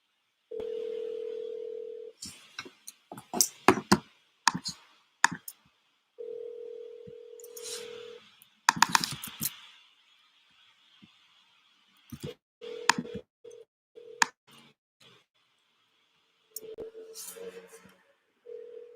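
An outgoing phone call starts with a steady dial tone, then a series of short keypad clicks and dialing tones, followed by repeated ringing tones, heard close and clear.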